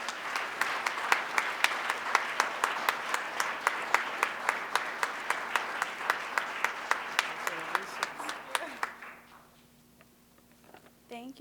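An audience at a Women's History Month celebration applauds an honoree, a dense, steady round of clapping with sharp rhythmic claps close by that fades out near the end, leaving faint room hum.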